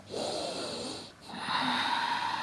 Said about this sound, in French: Une respiration complète.